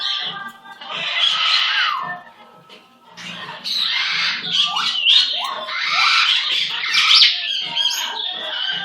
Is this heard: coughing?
no